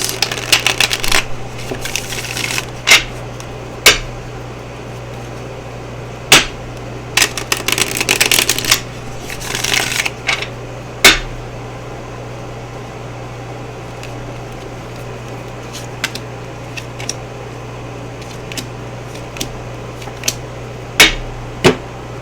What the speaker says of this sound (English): Sorry about all this smacking over here.